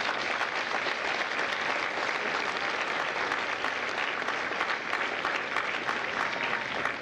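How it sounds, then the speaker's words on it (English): A large audience at a U.S. Marine Corps recruit graduation at MCRD San Diego applauds the families of India Company, steady dense clapping sustained loudly and evenly throughout without letup. "Please give a round of applause to the families of India Company."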